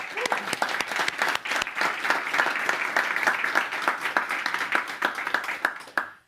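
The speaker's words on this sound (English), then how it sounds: "let's give all our finalists another round of applause" Audience applause for the finalists at the PATLIB Conference 2025: a full, steady round of clapping from a seated crowd that holds for about six seconds, then quickly dies away.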